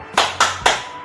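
A school class claps in rhythm for a spirit clap, three sharp, loud group claps in quick succession, close by.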